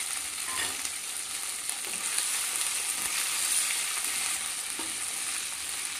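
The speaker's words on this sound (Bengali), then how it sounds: "এবার টমেটোটাকেও 1 মিনিট মতো ভেজে নিয়ে" Half a chopped tomato frying in a pan with ginger paste for a vegetarian banana-flower dish, giving a steady, moderately loud sizzle with a few soft stirring scrapes and no talking.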